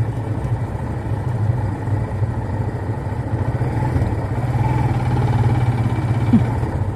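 A motorcycle engine drones steadily at mid distance, growing slightly louder toward the end as it passes, with faint clatter in the background.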